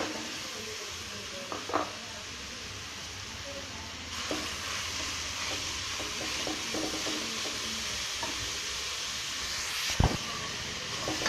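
Grated carrot, about a quarter kilo, sautéing in melted ghee in a pan for carrot halwa, a soft steady sizzle with occasional stirring scrapes and a sharper clatter near the end, close and fairly quiet.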